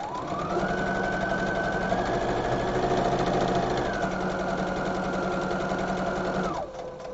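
A sewing machine stitches fabric for a large bow, running steadily and loudly for about six and a half seconds before stopping, with a brief pitch shift midway as the speed changes.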